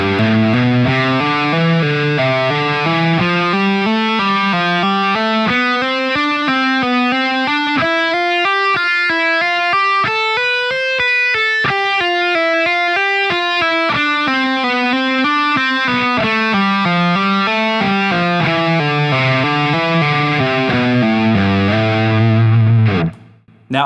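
A heavily distorted electric guitar plays a fast, continuous legato warmup pattern that slides up the neck and back down, loud and sustained for over twenty seconds.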